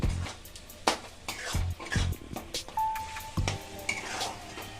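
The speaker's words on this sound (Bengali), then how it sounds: "আর কাশ্মীরি লঙ্কার গুঁড়ো এগুলো দিয়ে আমি এবার একটু কষিয়ে নেব" Ground cumin and Kashmiri chili powder frying in a pan, a soft sizzle under repeated scraping and clinking strokes of a spatula, close and irregular.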